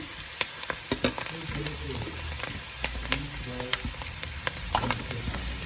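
Onions crackle and sizzle steadily in a hot pan for mutton karahi, with frequent sharp pops scattered over a continuous hiss, close and fairly quiet.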